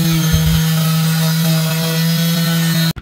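Steady grinding hum of a saw cutting through the top of a plastic paint bucket, running continuously and loud before cutting off abruptly at the end.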